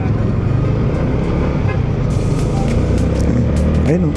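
Steady, loud road traffic of many cars and larger vehicles passing on a road in Bulacan, heard from a motorcycle rider's helmet, with a continuous engine and tyre rumble and a brief horn-like tone near the end.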